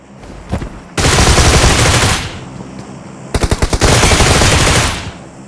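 Automatic gunfire in the PUBG Mobile battle royale game: loud, dense sustained bursts with a short gap between them, followed by a rapid string of distinct shots, all close and without speech.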